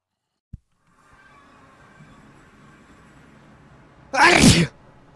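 One sharp, loud sneeze near the end, preceded by a faint click and quiet background hum.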